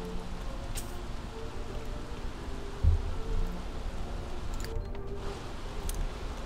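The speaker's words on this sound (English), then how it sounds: "it is pouring rain" Steady pouring rain in the life-simulation game The Sims 3, a continuous broadband hiss with a soft thump partway through, filling the scene without speech.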